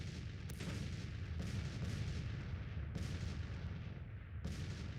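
Cannon artillery fire in the Grand Tactician: The Civil War 1861-1865 strategy game, a steady heavy rumble of booming shots with several sharp reports spaced a second or two apart, fairly loud throughout with no talking.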